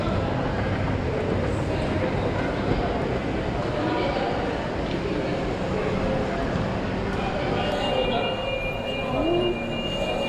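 A commuter train pulls into a Japanese station, its steady rumble and rail noise filling the scene, with a brief metallic wheel squeal near the end and a person talking over it.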